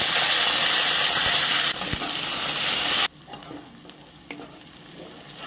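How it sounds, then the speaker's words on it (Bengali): Spice paste hits a pan of garlic and onions already fried until reddish, with a loud, steady sizzle and stirring that suddenly drops to a quieter frying hiss partway through. "এবার আমরা আমাদের তৈরি করা মশলাটি ঢেলে দেব"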